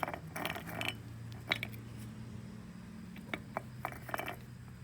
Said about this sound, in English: I got these 6 bolts all tightened back up.